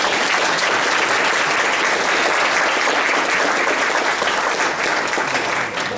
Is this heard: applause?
yes